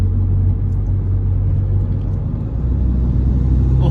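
A remapped BMW F30 with an N20 petrol engine cruises under light throttle, a low steady engine drone and road rumble heard from inside the cabin, with no talking.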